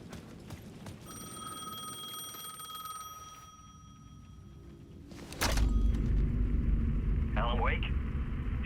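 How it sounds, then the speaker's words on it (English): A payphone ringing in the Alan Wake 2 video game, a bright electronic bell tone for a couple of seconds, then heavy low rumbling noise and a brief sharp whine. "The payphone was ringing again."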